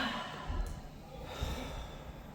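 Loud, audible breaths in a breathwork exercise: slow, airy exhales and inhales heard up close, with soft huffs and no speech.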